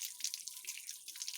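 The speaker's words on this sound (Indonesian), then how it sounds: "Nah, kita bisa menggunakan air keran seperti ini." Tap water runs steadily from a faucet while aglaonema cuttings are rinsed, a faint, even hiss with light splashy flutter and no talking.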